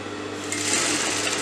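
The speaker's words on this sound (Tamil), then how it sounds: "இப்போ நம்ம வந்து ஸ்ட்ரைட்டா ஒரு தையல் போட போறோம்" A sewing machine stitches a straight seam on a blouse sleeve, running as a steady, close mechanical whir with a fast, even needle rhythm and no pauses.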